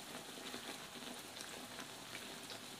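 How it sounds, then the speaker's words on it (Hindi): Besan naan frying in a pan gives off a soft, steady sizzle with faint crackles, low and constant throughout with no talk. "बस ये थोड़ा सा मैंने और फ्राई करना है"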